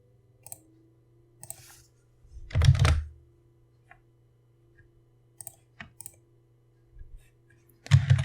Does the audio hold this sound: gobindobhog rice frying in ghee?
no